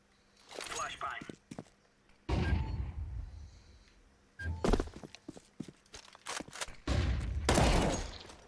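A flashbang grenade in a video game: several loud, sharp bursts and heavy thuds separated by quieter gaps, with voices talking in between.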